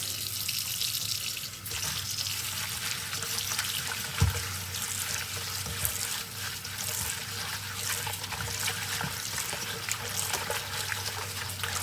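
Running tap water rinses fresh lemongrass in a steady, even flow, with a single faint knock or splash partway through and no talking.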